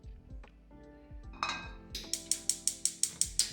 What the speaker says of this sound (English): Frying pan on.